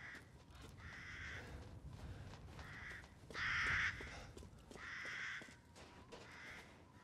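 A crow in the video game Resident Evil Village caws repeatedly in a steady series of harsh, moderately near calls over a quiet ambient background, with no voices.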